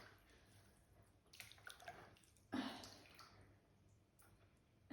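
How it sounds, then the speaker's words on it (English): Wool fleece soaking in a bucket of hot water is stirred by hand, giving soft intermittent sloshes and splashes with one stronger surge midway and another at the end, close by. "now I'm going to gently stir it around a bit to loosen up the gunk"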